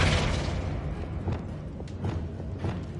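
A Flipendo spell cast in Hogwarts Legacy lands as a boomy thump that decays, followed by several softer impact pops spaced through the rest of the moment, with no talk.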